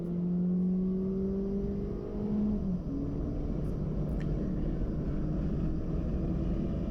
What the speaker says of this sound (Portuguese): Agora vamos ouvir um pouco do som do motor.